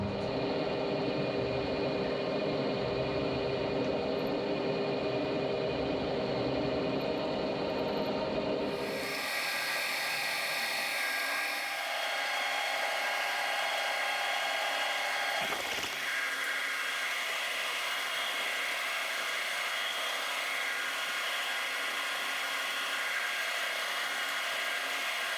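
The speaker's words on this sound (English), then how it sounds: "we've got to put a grease nipple port in this, so 5mm drill, and then I'll open it up for a 1/8 NPT." A 5mm drill bores a grease nipple port into a hydraulic cylinder, a steady machine whine and hum running throughout. The tone shifts abruptly about a third of the way in, then continues, with a brief knock midway.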